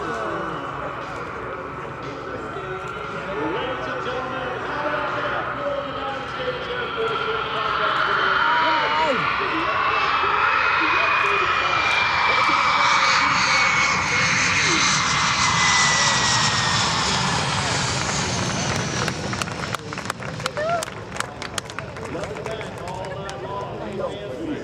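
A fighter jet, an F-22 Raptor or F-35A, roars at EAA AirVenture 2024, its engine swelling into a loud, rising whoosh before fading, with crackling bursts near the end and people talking close by.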